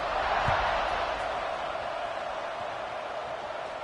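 A stadium crowd in a college football video game, Clemson game, keeps up a steady, loud, dense roar and murmur after a score, with a brief thump early on and no clear voices standing out.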